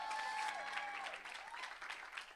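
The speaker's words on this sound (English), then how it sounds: "Give me a round of applause." Brief, fairly quiet applause from a student showcase audience greeting performers, a crowd of hands clapping steadily with a few whoops and shouts over it.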